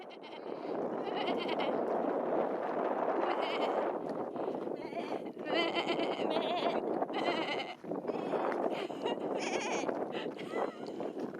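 Sheep bleat repeatedly and loudly in a corral in Scotland, several animals overlapping in a continuous noisy chorus close by.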